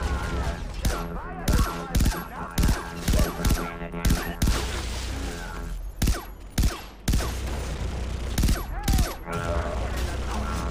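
Gunfire in the sci-fi shooter game Far Cry 3: Blood Dragon: loud, repeated sharp shots and short bursts come in irregular clusters over a steady backdrop of game music and ambience.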